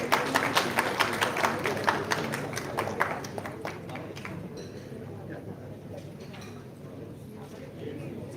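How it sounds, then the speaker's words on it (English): An audience at a career planning roundtable claps in a burst of applause that is strongest at first and thins out over several seconds, with a voice speaking over it. "Please clap."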